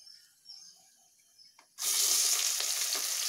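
Onions hitting hot oil with bay leaf, cinnamon, cloves and cardamom: after a few faint clinks, a sudden loud, close sizzle erupts and holds as a dense, steady hiss to the end.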